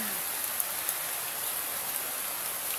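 Heavy rain pours down steadily in a dense, hissing wash, with no voices and a few faint spatters rising above the roar.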